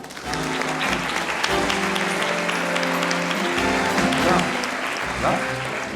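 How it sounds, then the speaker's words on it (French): An audience applauds entrepreneurs called to the stage at the 20th-anniversary evening of Initiative Savoie; dense, loud clapping runs steadily through the whole stretch, with some tonal sound beneath it. "J'appelle Samuel Vallet et Christophe Ougier, sous vos applaudissements."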